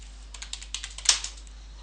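Someone types a command on a computer keyboard: about a dozen quick, light key clicks in an uneven run, close and clear, with one sharper keystroke near the end.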